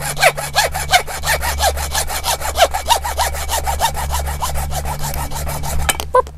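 A hand saw cuts through a pipe for a backyard garden faucet, with fast, even back-and-forth rasping strokes close by. The rhythm holds steady for about six seconds before the final strokes and a brief clatter.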